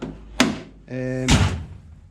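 Triumph TR6 car door shut close by: a sharp thunk, then a brief tonal hum, followed by a second heavier slam that fades quickly.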